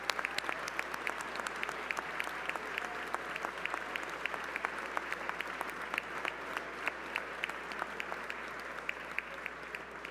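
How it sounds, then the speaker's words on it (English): An audience claps during the Massachusetts Governor's 2026 State of the Commonwealth address. The applause is sustained and warm, with crisp individual claps standing out from a dense, even wash for about ten seconds. "give a warm round of applause"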